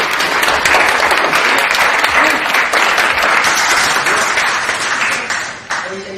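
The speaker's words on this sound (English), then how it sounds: "we can do a double round of applause for the top sales broker of the month" Sustained, loud applause fills the room for the month's top sales broker at a real estate brokers' gathering, dense clapping holding steady for several seconds before tapering off near the end.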